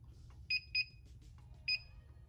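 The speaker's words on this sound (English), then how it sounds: "that beeping will annoy me" Three short, high-pitched electronic beeps sound from the control panel of a Starcraft 15 x 15 clamshell heat press, two in quick succession and one after a pause, over a low background hum.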